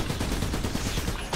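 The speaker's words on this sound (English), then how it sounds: "Not so tough against my artillery cannon." Artillery cannon fire in the video game Trenched makes a dense, continuous barrage of loud booming blasts, a rapid rumbling volley with no pauses.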